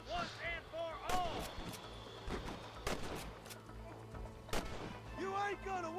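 Scattered gunshots from a Western gunfight in the video game Red Dead Redemption, a handful of sharp cracks spaced irregularly among quiet background music and occasional voices.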